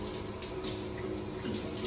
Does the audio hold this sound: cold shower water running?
yes